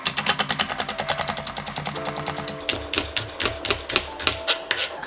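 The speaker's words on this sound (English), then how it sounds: "in the meantime, we're gonna chop up some green onions." A knife chopping green onions on a cutting board for deviled eggs, rapid rhythmic tapping strokes in a fast steady run, close and crisp, over a humming background.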